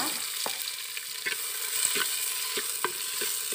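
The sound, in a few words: onion and tomato frying in oil outdoors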